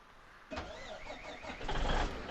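A truck engine in Farming Simulator 17 cranks and catches, a short whirring start that swells into a louder, steady running engine, heard up close with no talking.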